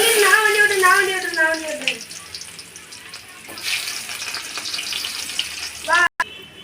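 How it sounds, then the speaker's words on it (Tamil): Onions frying in hot oil with popped mustard seeds for a fish curry make a soft, moderate sizzle. A voice speaks at the start, and a brief sharp cut comes near the end. "எண்ணெய் காஞ்சிடுச்சு கடுகு போட்டுக்கலாம் கடுகு உறைஞ்சிருச்சு வெங்காயம் சேர்த்துக்கலாம்"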